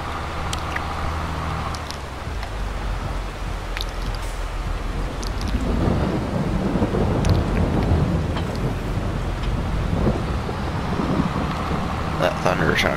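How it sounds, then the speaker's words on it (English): Thunder rumbles through a heavy rainstorm in the Farming Simulator 22 video game, with steady rain hiss and a deep roll that swells louder midway and stays prominent to the end. "That thunder is sounding beautiful."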